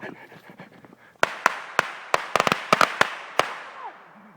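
Fireworks being shot off outdoors, a string of sharp, loud pops and bangs at irregular intervals, preceded by quieter background noise and panting.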